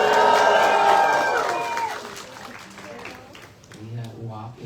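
A roadside crowd welcoming peace walkers in Virginia with applause and cheering, loud and dense at first, then thinning out while a voice talks over it near the end.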